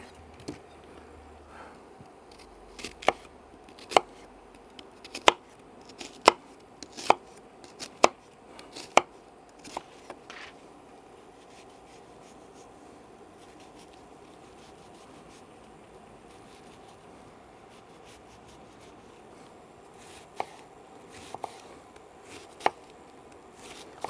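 A knife finely chops tomatoes and onions for a relish on a board, sharp distinct knocks coming in an irregular burst of about ten strokes, then a quiet pause before a few more scattered chops.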